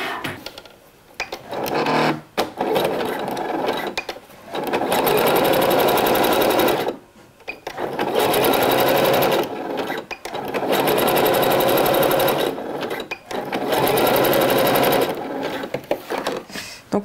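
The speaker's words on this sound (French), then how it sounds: "on va venir coudre, du coup, l'extrémité ici de la bretelle avec l'envers ici au point zigzag" A sewing machine zigzag-stitching the end of a swimsuit strap, loud and close in several long bursts of rapid mechanical chatter separated by short pauses.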